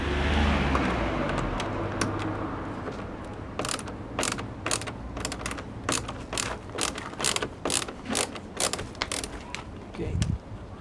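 Ratchet wrench undoing the headlight retaining screws on a Ford Mondeo Mk4, with a steady run of close, crisp ratcheting clicks in quick bursts over a low mechanical background.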